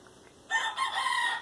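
A rooster crows loudly and close for about a second, rising abruptly out of a quiet background.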